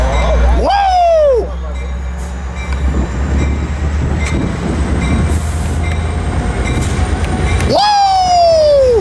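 A Metrolink train led by locomotive A69 passes Carlsbad Village Station. The loud, close rail rumble and rolling wagon noise carry throughout, with sharp sweeping squeals or calls at the start and end.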